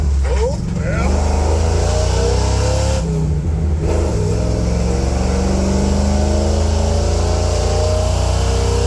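A 1986 Ford Bronco with a swapped-in EFI 460 V8 runs and revs steadily, its loud low engine drone continuous and close throughout with a brief dip as it shifts gears partway through.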